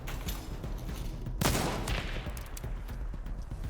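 A single loud, sharp gunshot cracks out in the video game Hunt: Showdown 1896, its echo trailing away over a low ambient background.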